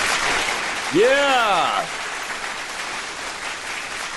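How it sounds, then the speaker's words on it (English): Audience applause at a dating-advice talk, a steady wash of clapping throughout with a single loud cheer partway through. "Big round of applause for that again!"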